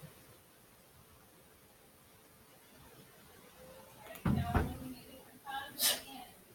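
A single short sneeze in a classroom during an algebra lesson, fairly faint, followed by a couple of quiet rustling sounds against a low background hiss.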